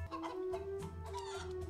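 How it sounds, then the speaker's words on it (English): A chicken in the animated movie Rio clucks and calls a few times in quick succession, faint under a soft musical background. "Is that a chicken?"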